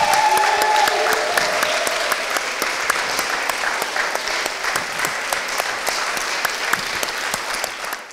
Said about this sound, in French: je propose que l'on fasse un grand applaudissement à Dieu pour Emmanuel.